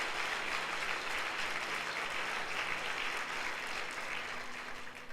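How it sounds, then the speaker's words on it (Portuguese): A church congregation at a Sunday service claps together in sustained, dense applause that holds steady at moderate volume, then begins to thin slightly at the end. "Pode aplaudir, Jesus."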